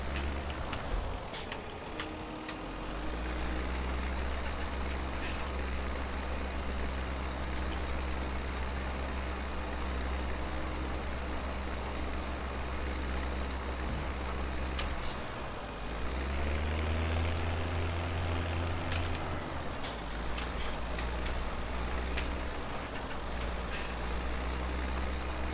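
A tractor engine in Landwirtschafts-Simulator 17 runs steadily along a headland strip, a continuous low drone that dips and swells twice as the load shifts, heard alone without talk.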